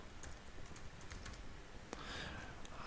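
Soft clicking keystrokes on a computer keyboard, a short run of light taps followed by a brief pause and then a louder click, all fairly faint against a steady hiss.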